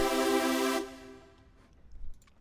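A bright, buzzy supersaw synth chord in Serum sustains, then cuts off and leaves a short reverb tail that fades into quiet.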